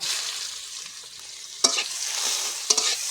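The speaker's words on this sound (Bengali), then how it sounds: "এবার সবজি রান্না করার জন্য ওই তেলে দিয়ে দেবো ফোড়ন জিরে একটা কেটে রাখা পেঁয়াজ কুচি দিয়ে দেবো" Chopped onion with cumin seeds frying in hot oil, a soft steady sizzle broken by two sharp clinks of a spoon stirring against the pan.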